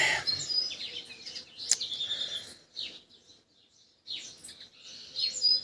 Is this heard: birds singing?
yes